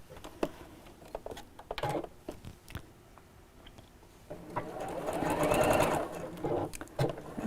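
Sewing machine stitching across a quilted pouch, with short bursts of stitching and handling sounds early on, then a louder, sustained run of steady stitching near the end.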